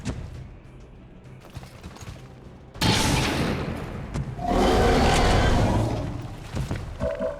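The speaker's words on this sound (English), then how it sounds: "we follow it up with a blast from the shotgun" Shotgun blast from the video game XCOM 2: a sudden loud, broadband burst after a quiet stretch, followed by a sustained roaring, rumbling effect with mechanical clatter trailing off.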